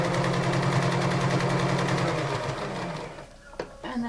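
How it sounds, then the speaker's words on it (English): Sewing machine running steadily for about three seconds while back-stitching a fabric crayon roll, a rapid, even mechanical chatter that stops, followed by a couple of brief handling clicks. "So generous little back stitch,"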